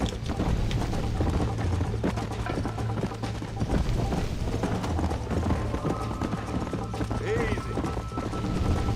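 Rapid hoofbeats of a horse galloping in a Red Dead Redemption horse race, a continuous clip-clop rhythm under game music and effects, with a voice talking over it.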